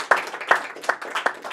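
A small audience claps in a few loose, rhythmic bursts, each clap sharp and close, with scattered voices briefly mixed in.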